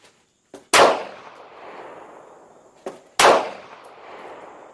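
A World War Two high-power rifle fires twice a few seconds apart, each loud, sharp report followed by a metallic ring and a long decaying echo, with a brief mechanical click before each shot.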